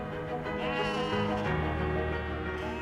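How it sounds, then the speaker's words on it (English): Border cheviot sheep bleat on a British hillside in winter, a few drawn-out wavering calls overlapping at moderate distance against a steady outdoor background. "it wouldn't be the British countryside without sheep on the"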